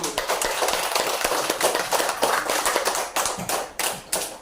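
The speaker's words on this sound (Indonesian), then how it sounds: "Beri dulu tepuk tangan yang meriah kepada kelompok 1." A classroom of fourth-grade pupils claps steadily for several seconds, a dense patter of hands with no voices standing out.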